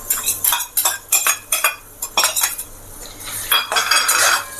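Grated coconut for rava laddu is stirred in a pan with a metal spoon, producing repeated close scraping and clinking strokes in an irregular rhythm.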